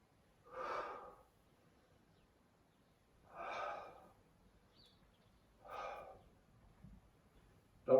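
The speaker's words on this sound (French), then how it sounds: "Et je souffle, j'inspire." Three slow, evenly spaced breaths, soft and close with quiet pauses between them, drawn in and out in time with gentle upper-body mobility exercise.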